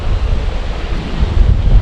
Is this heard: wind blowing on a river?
yes